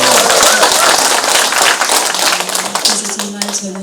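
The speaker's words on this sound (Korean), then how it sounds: "박수 한번 쳐주세요." An audience at a talk concert claps, with dense, loud applause that gradually thins and fades toward the end.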